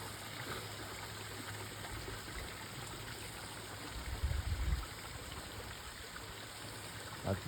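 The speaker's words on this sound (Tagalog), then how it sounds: "May tubig din lumabagsak." Water pouring from a hose at a summer camp lodge in Japan, a steady rushing gush with a low rumble, fairly close, continuous with a brief louder surge.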